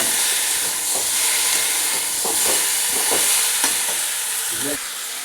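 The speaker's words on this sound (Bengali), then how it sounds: "এবারে ভালো করে কষিয়ে নিচ্ছি" Masala sautéed in a pan, with a steady loud sizzle and hiss and repeated scraping stirs of a spoon against the pan, no talking.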